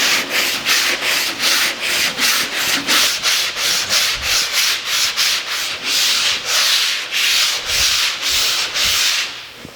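Rhythmic back-and-forth strokes of sanding scrape across a red-coated fiberglass surface, about twenty even passes close up, stopping near the end.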